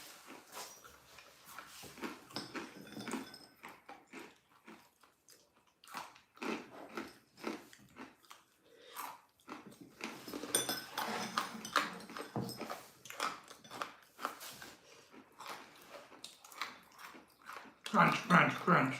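Crunchy wasabi peas are chewed up close in irregular bursts of crisp crunching, fairly quiet, with louder bites near the end; people also talk in between.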